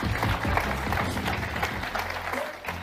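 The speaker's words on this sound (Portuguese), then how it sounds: "palmas para ela" Applause from a conference audience at a corporate venture summit, a moderate, fairly distant patter of many hands clapping that thins out slightly toward the end, with faint voices underneath.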